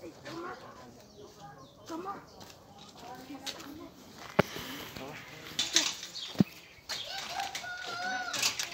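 Quiet chatter of people talking in the foreground at a zoo in Alsace, with bird calls, fluttering wings and occasional sharp squawks mixed in nearby.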